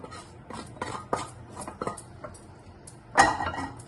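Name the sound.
mixing cooked rice with a spoon in a bowl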